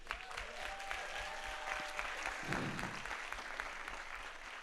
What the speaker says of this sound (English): So applause for them.